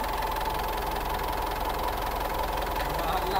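A cold car engine with an oil pumping problem idles close by with a steady, rapid knocking rattle and vibration, running evenly throughout.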